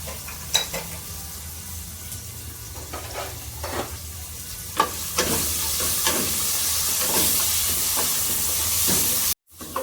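Salted vegetables fry in a pan with a continuous hissing sizzle, punctuated by sharp spatula scrapes and taps every second or so, growing steadier and louder partway through before a brief cut.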